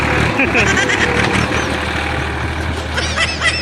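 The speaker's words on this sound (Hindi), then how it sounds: "दूसरा नंबर के ट्रैक्टर आते ये ड्राइवर बाबू" A tractor engine rumbles nearby at a steady drone, with passing vehicle noise, a few high squeals and people talking over it.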